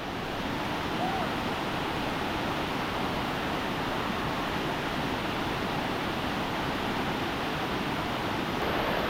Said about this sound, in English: these beautiful waterfalls right behind me in Ocho Rios